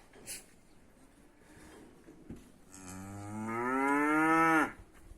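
A cow on a livestock farm lets out one long, loud moo after a few seconds of quiet, faint background noise, its low drawn-out call rising in strength before cutting off sharply.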